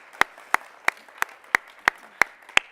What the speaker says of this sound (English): Let's just give another round of applause to everybody who...